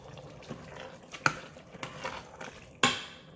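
Worcestershire sauce added to simmering beef chili, then stirred, with a few sharp clinks and scrapes of a utensil on the pot over a soft bubbling sizzle, close and intermittent.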